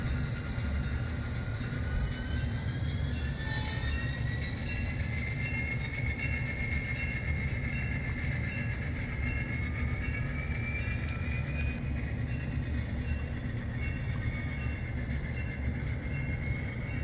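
Freight train pulling away in a rail yard in East St. Louis, a continuous low rumble of rolling cars with high, drawn-out wheel squeals rising and falling throughout, steady and moderately near.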